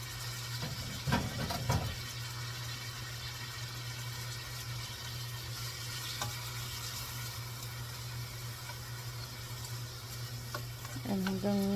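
Tomatoes go into a pan for pompano sarsiado, giving a soft steady sizzle with a few scraping stirs near the start and a clatter near the end, fairly quiet and without talk.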